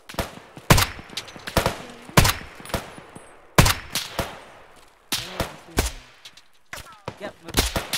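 Sharp gunshots in an Arma military shooter, a few single shots and short bursts with gaps between them, some close and loud, others farther off with a rolling echo.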